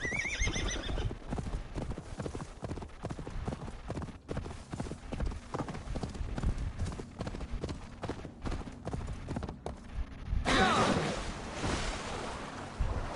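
Hooves from a galloping horse in a video game drum in a fast, continuous rhythm, with a whinny at the start and a watery rush near the end, loud and close.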